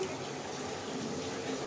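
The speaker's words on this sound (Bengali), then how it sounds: "ওটাকে পুরো ধুয়ে দিল জল দিয়ে" Water runs steadily from a tap while food is rinsed in a home kitchen during sweet corn cooking, a continuous close splashing wash with no talk.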